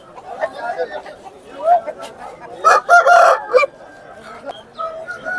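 Roosters crow loudly at the village market in Gokavaram, with one strong crow near the middle and shorter calls around it, all set against steady market chatter and people talking.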